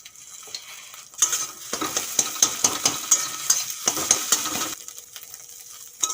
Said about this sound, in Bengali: এই দেখুন দুটো ডিম ফাটিয়ে ভেজে নেব